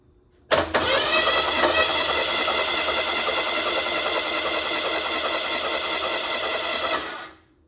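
A 1982 Mustang engine with no spark plugs fitted cranks over steadily for about six and a half seconds, a loud even whir that starts abruptly and cuts off without ever firing.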